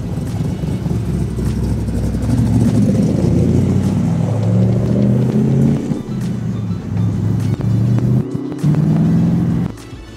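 Old vehicle with a wooden steering wheel and no power steering, its engine running with a loud, rough, rumbling idle and several revs rising and falling, close by and steady throughout.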